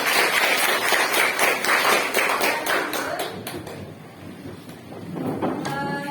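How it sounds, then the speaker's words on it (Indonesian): Schoolchildren applaud in a classroom, a loud burst of many small hands clapping that fades after about four seconds into quieter room noise. "Beri tepuk tangan."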